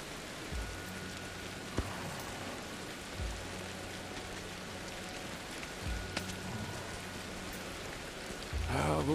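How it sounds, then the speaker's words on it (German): Steady rain falls in the video game Ancestors: The Humankind Odyssey, a constant soft hiss of drops with a few low thuds, and no voices are heard. "Es regnet"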